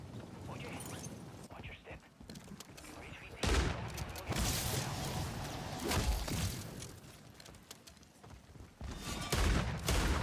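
Gunfire aimed at a mimic enemy in MW3 Zombies, rapid fusillades of shots that come in several loud bursts over rumbling game noise, with a voice talking in between.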